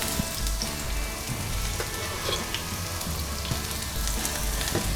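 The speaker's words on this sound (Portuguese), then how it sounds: "Fiozinho de azeite de oliva na frigideira, rapidamente a cebola" Onion frying in a drizzle of olive oil in a pan, a loud steady crackling sizzle with occasional sharper pops throughout.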